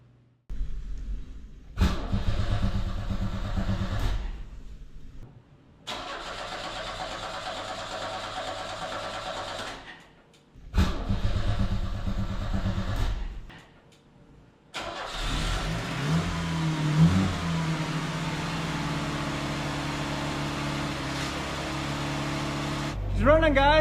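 An old truck that sat unused for twenty years cranks over in several separate attempts with pauses between, then catches and keeps running at a rough idle, loud and close, with people talking over it.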